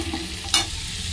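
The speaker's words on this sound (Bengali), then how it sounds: "প্রথমে একটুখানি সর্ষের তেল, 5 ফোড়ন, তেজপাতা, লবণ, হলুদ, আদা আর সবজিগুলো দিয়ে একটু ভেজে ভেজে নিচ্ছি।" Vegetables fry in a wok of mustard oil with five-spice seeds, bay leaf, salt, turmeric and ginger, giving a steady close sizzle with a sharp scrape of stirring midway, no talk.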